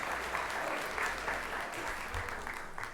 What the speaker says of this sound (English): another round of applause as you exit the stage